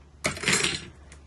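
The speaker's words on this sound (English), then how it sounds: "just add them to our plantain mixture and continue to mix them together" Plantain bread batter made with oat flour and cracked eggs is stirred in a bowl, giving a single close burst of wet scraping and clinking against the bowl that fades after about half a second, with a faint tap near the end.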